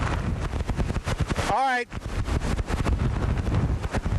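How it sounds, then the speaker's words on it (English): Strong gusty wind from Hurricane Dennis buffets a microphone outdoors, roaring continuously with rough surges while someone speaks steadily over it, broken by a brief dip near the middle. "We're getting pretty consistent gusts here, at least in the 50-mile-an-hour range, if not a little bit higher."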